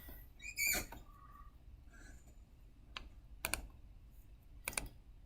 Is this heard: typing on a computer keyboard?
yes